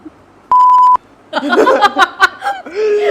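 A single flat electronic bleep cuts in for about half a second, followed by bursts of giggling laughter.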